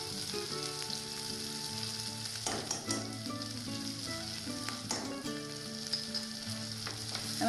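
Onions frying in a pan for Tamil-style coconut milk rice, a steady dense sizzle running the whole time with occasional stirring scrapes, close and alone with no talk.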